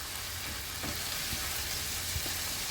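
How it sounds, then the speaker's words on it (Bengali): A spice paste with cumin powder stirred in a frying pan for a navaratna korma, a low, steady sizzle with scraping stir strokes, fairly quiet and without speech. "পরিমাণ মতো জিরের গুঁড়ো দিয়ে ভালোভাবে নেড়ে চেড়ে"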